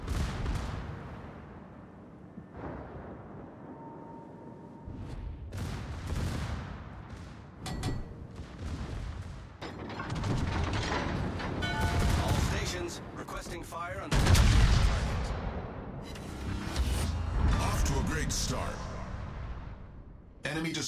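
The main guns of the USS Missouri, a Tier 9 battleship in World of Warships, fire as heavy booming salvos over rumbling battle noise. Bursts grow denser and louder through the second half, and voice callouts run over them.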